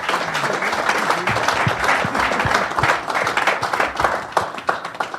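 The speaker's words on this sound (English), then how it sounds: "Please, can I get a very big round of applause?" A studio audience gives a big round of applause, a dense wash of clapping that swells and then thins into scattered individual claps toward the end.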